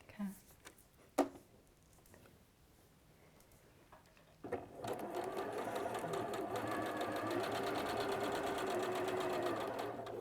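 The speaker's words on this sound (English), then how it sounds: "I'm going to sew on the lines that I put in with the ruler." A sewing machine stitching a quilt-as-you-go block along ruled lines: a few faint clicks and handling noises, then a steady close mechanical whirr of stitching that runs to the end.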